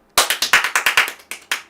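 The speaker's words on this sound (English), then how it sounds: "I'm going to clap to celebrate 800 subs" A single person claps their hands about a dozen times in quick succession, sharp and close, with a brief pause before the last few claps and no talk over them.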